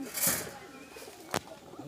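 Pigeons in a pigeon-keeping setting give a soft, brief coo and flutter close by, faint and broken by a sharp knock.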